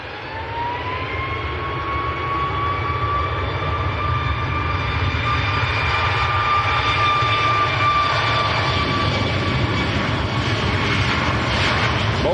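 Ryanair Boeing 737 Max jet departing Manchester Airport for Berlin, a loud close engine roar with a rising whine of turbine tones that climbs and then holds steady, powerful and continuous with no talk.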